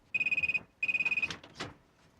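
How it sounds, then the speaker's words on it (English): A telephone rings indoors with two bursts of rapid electronic trilling bells, clear and fairly close, followed by a couple of short clattering knocks as the ringing stops. "You answer the door, I'll answer the phone."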